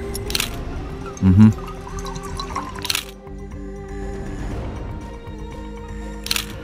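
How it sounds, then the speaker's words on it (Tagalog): Water is handled outdoors on rocky ground at a portable stove while coffee is being made, giving soft liquid trickles and drips amid quiet background, punctuated by a few sharp clicks. "magpapakulo muna ako ng tubig na ang gamit ko ay portable kalan"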